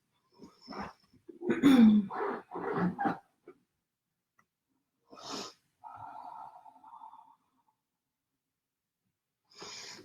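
Breathing in yoga child's pose: several close, audible breaths and snorting exhales in uneven bursts, followed by quieter gaps, one longer exhale and a final breath near the end.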